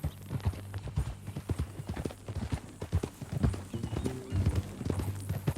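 Horse hooves in the video game Red Dead Redemption 2 clip-clop steadily and fairly close, a continuous trotting rhythm over a low background hum.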